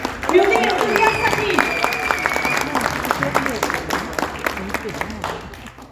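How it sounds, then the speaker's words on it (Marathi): An audience at a Makar Sankranti cultural program in Sacramento breaks into strong applause, a thick sustained clatter of many hands with a few whistles and cheers on top, gradually thinning out. "एकदा जोरदार टाळ्या वाजवूयात आपल्या"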